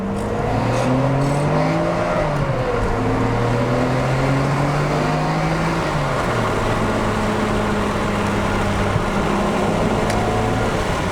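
A tuned Nissan Skyline GT-R R32 engine revs loudly and continuously at close range at a JDM expo, rising and falling through the RPM range in several sweeps with no talk over it.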